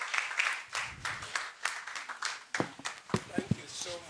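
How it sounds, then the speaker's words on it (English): An audience at a World Asthma Day 2025 ministry event applauds as a speaker comes up to address them, with scattered, uneven clapping in bursts that thins out toward the end, mixed with talking voices. "let's put our hands together as he comes to address us. Let's keep clapping"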